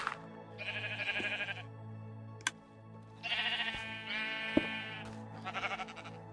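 Sheep bleating in Minecraft, several wavering baa calls in succession over a low steady background, with a couple of sharp clicks between them.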